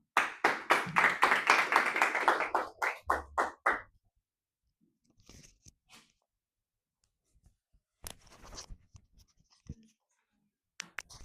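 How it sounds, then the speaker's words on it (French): A few pairs of hands clap for Romain, a debater on the negative side at an internal advocacy match, in a dense burst of about four seconds that thins out. Quiet speech and scattered small noises follow. "pour la négative, on peut applaudir Romain"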